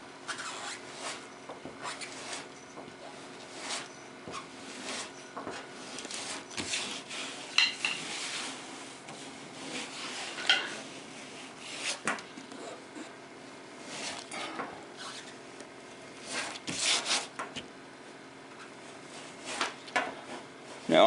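A grater rasps across cured Bondo body filler on a car body during minor body repair. Repeated close scraping and shaving strokes rise and fall in bursts, with no talk.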